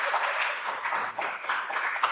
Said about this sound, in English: While we appreciate the applause